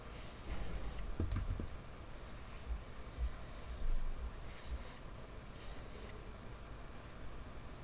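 A stylus sketches a pony on a tablet, soft continuous scratchy strokes and light taps, faint and close, with quick bursts of drawing motion.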